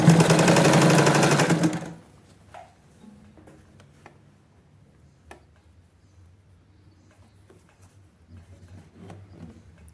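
A sewing machine stitches the seam of a girl's shorts in one loud, rapid, steady burst of about two seconds, then stops, leaving faint clicks and handling noises.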